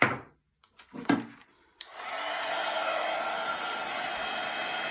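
A heat gun switches on after a few taps and handling knocks, then blows a steady loud whirring roar while melting metallic silver embossing powder on a card project, with no talking.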